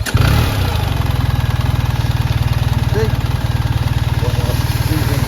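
A BMW R1300GS Trophy motorcycle engine idles steadily after a remote start, a close, even low throb with a fine regular pulse, while someone talks over it.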